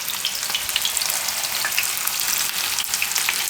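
Oats and spinach tikkis fry in a pan with a loud, dense, steady sizzle and crackle, close and continuous without pause, no voices heard.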